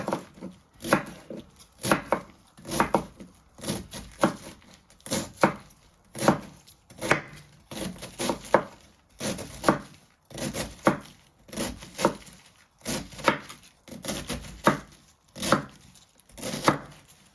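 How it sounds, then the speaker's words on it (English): A knife on a cutting board slicing marinated beef into small pieces: steady, rhythmic chops in quick clusters with short pauses between them, close and crisp, no talking. "then you want to slice it into little pieces"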